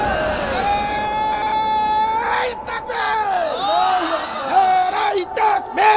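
A crowd chanting a slogan led by an elder at a religious gathering, loud voices rising in sustained, wavering cries and responses, blending into one roaring call.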